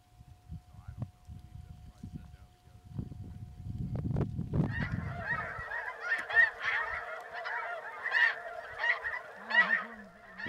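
Snow geese honk in a dense, continuous chorus during a hunt in Missouri River bottoms, with many overlapping calls swelling in after a stretch of low rumbling and rustling.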